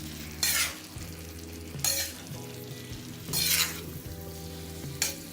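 Cauliflower and chicken frying on a hot tawa, gently turned with a spatula: a constant sizzle broken by four distinct bursts of louder hissing and scraping as the pieces are moved, close and without talk.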